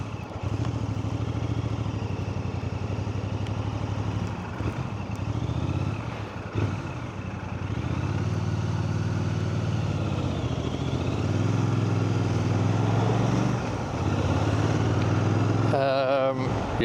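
A motorcycle engine drones steadily while riding, with wind rumble and a low continuous hum, loud and close throughout, easing briefly near the end.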